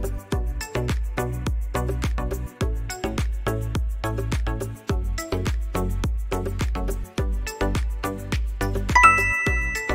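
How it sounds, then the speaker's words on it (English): A doorbell chimes over and over in a steady ding-dong rhythm, bright and clear, sounding alone with no talking. "Doorbell."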